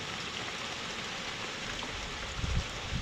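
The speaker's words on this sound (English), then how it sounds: "it's just raining" Steady rain pours down during a thunderstorm after hail, a dense continuous hiss with a few low thumps near the end, no talk.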